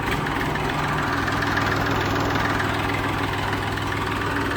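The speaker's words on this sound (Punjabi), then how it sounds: "ਸਟਾਰਟਿੰਗ ਦੇਖੋ ਟਰੈਕਟਰ ਦੀ" A Massey tractor's diesel engine, a 241 engine, idles steadily with a low, rumbling throb and mechanical knock, close by and continuous, with no talking.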